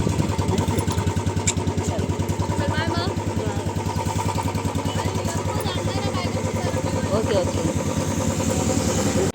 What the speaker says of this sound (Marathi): या उन्हातून आम्हाला आता जायचं आहे बाईकने